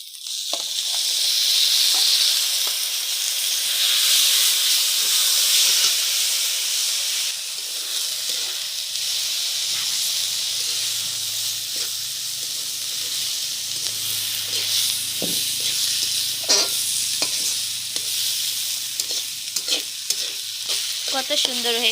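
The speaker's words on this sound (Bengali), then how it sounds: "এখন সব মিক্স করে চাউলটা দিয়ে দিব। দিয়ে দিচ্ছে চাউল।" Rice tipped into a hot frying pan and stirred with spices for a vegetable khichdi, giving a loud steady sizzle and hiss with scraping stirring strokes close by.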